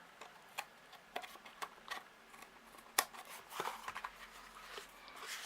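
Scissors snip away excess material on a handmade craft desk caddy, a quiet series of short, crisp cuts and clicks spaced irregularly, close by and fairly faint with no talking.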